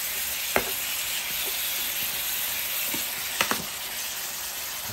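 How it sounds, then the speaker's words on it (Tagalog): Meat frying in a pan gives a loud, dense sizzle that runs the whole way through, with a few sharp utensil taps close by. No voices. "Pirito natin yan no."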